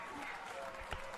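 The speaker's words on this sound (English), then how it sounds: "The crowd likes it." A brief wash of crowd applause at an Australian football match in the Northern Territory league, steady and distant-sounding, with a commentator's voice over it.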